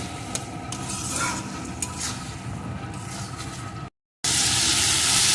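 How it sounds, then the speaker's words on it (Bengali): Spice paste of turmeric, salt and sugar stir-fried in a pan for a fish-head moong dal, with steady sizzling and the scrape of a spatula turning it, close and continuous, then a louder burst of frying hiss. "এখন মশলাটাকে সুন্দর করে আমি কষিয়ে নেব"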